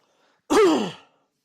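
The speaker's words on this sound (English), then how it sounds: "I just got a bit of a cough" A single short, throaty cough or throat-clear, close and fairly loud, then silence.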